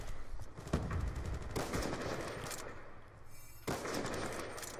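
Rapid bursts from a Peacekeeper gun in Call of Duty Ghosts, loud close automatic fire in several strings with short pauses between them.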